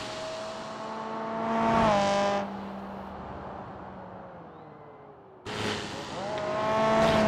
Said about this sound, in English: otherwise you get double car sound.